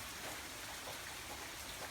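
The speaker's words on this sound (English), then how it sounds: "The soft patter of raindrops on the windows was the only sound, and it was oddly soothing" Soft, steady rain pattering on windows, a dense, even hiss of drops that holds unchanged throughout, faint and with no voices.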